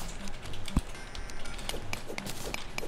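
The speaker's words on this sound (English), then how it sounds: "I hear typing." Rapid clicking keystrokes on a computer keyboard, steady and fairly close, with a few sharper isolated taps standing out over faint background hum.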